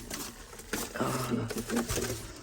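A pigeon coos low and close in a couple of soft, rolling calls over faint background noise.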